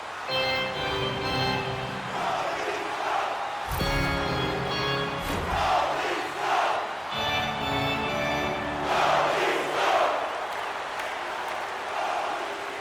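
Arena crowd noise from the NHL 26 hockey video game, a steady loud roar of cheering with swells and bursts of applause throughout, layered with game music tones.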